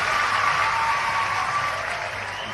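An audience at a Madhya Pradesh chief minister's rally in Badwara applauds, a dense, continuous crowd clapping that holds steady then eases slightly, with no talk over it.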